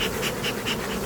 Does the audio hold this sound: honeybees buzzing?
yes